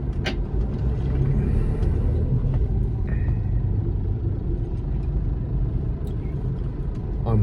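Road traffic rumbles past in a continuous heavy low drone, with heavier vehicles and a faint hiss of brakes mixed in, heard close by from inside a vehicle and with no talk.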